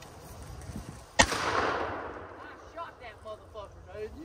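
A single sharp gunshot fired at an outdoor target, loud and close, followed by a decaying echo and faint background chatter.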